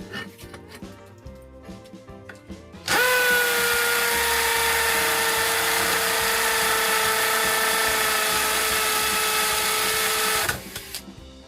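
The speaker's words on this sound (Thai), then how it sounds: "เดี๋ยวเราไปลองเจาะที่อิดบล็อกกันดูบ้างครับ" A Ronix 8018 cordless drill bores into a concrete block, starting abruptly and holding a loud, steady high-pitched whine with a grinding edge for about seven seconds before cutting off, with quieter handling noises before and after.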